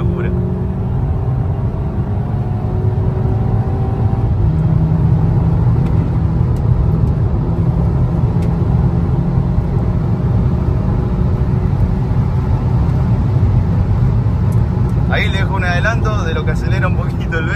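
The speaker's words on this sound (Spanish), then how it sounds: "Acelera un poquito el Vento" Volkswagen Vento 2.0T with a Stage 2 tune accelerating hard, a steady loud engine drone rising through the gears from inside the cabin, with a brief burst of higher-pitched noise near the end and people talking over it.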